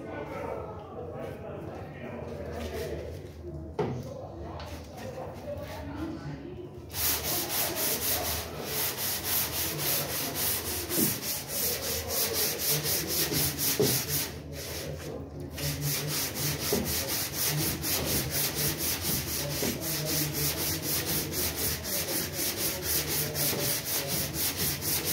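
A Kombi sliding door is hand sanded with 220-grit sandpaper in rapid back-and-forth strokes, a close, steady scratchy rasp that starts after a quieter opening, with someone speaking over it.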